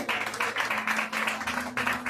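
A church congregation gives rhythmic, evenly spaced clapping, a short burst of regular beats at moderate distance over a steady low hum.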